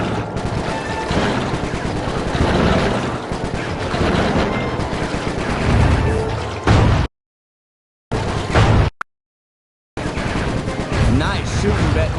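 Rapid gunfire in Sly 3: Honor Among Thieves, dense and loud with bursts and explosions, cutting out into abrupt silent gaps before resuming.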